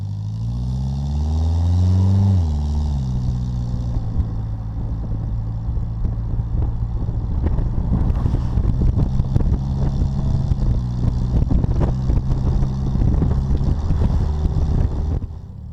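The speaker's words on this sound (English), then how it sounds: "you'll hear it skip 3rd gear prematurely because it's trying to lock up the torque converter" Automatic transmission in a Bugeye Sprite shifting through its gears with overdrive engaged as the torque converter locks up, heard as a steady close engine drone whose pitch drops at each shift, mixed with loud road and wind noise.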